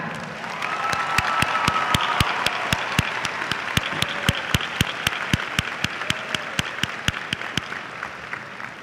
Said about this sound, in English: Please give one more big round of applause for the outstanding class of